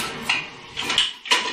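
Metal spoon and utensils clatter in a home kitchen during gumbo cooking, three short clinking bursts at close range with brief pauses between them.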